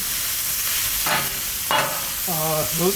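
Onions frying on a flat griddle, a close, steady hiss and crackle throughout, with a few faint tonal scrapes or squeaks from a spatula.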